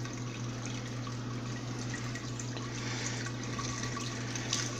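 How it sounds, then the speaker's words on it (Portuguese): Hot water pours over grain mash while brewing homemade draft beer, a steady, continuous splashing and trickling that runs evenly without a break. "pegar aquela água aquecida e ir jogando aqui em cima, ela vai passando e retirando o resto de açúcar que ficou grudado aí"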